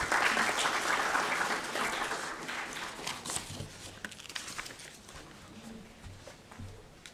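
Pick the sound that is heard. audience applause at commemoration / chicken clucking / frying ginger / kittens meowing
audience applause at commemoration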